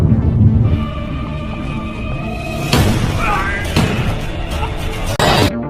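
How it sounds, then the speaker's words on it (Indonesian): Loud, sharp gunshot blasts ring out in a film scene at a quiet, isolated spot, three distinct cracks spread over a few seconds with reverberant tails over a tense music drone. "Peter dan Tom mendengar suara tembakan itu dan segera berlari menuju ke sana"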